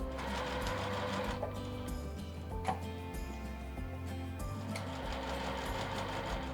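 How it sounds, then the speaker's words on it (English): A sewing machine stitches a quarter-inch seam around a dress, its rapid mechanical chatter running in several short bursts with brief pauses between them. The machine is moderately close and heard alone. "bring it over to the machine, and give us a 1/4 inch seam all the way around"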